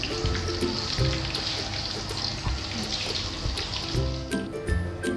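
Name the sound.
coated chilli chicken frying in hot oil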